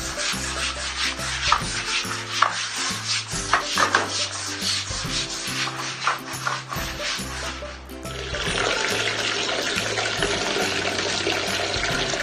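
A brush scrubs a soapy cat cage floor in rough rhythmic strokes, then water is poured over the floor to rinse it, a steady loud gushing wash that fills the last few seconds, close and without talk.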